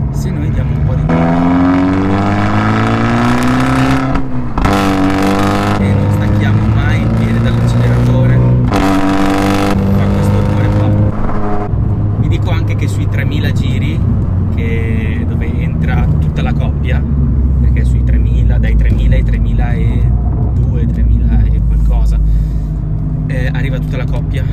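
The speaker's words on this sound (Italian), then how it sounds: "arriva tutta la coppia del motore" A Fiat 500 Abarth with an MTA automated manual gearbox revs and accelerates, its loud engine drone rising and falling through gear changes. Someone talks over the sustained engine noise.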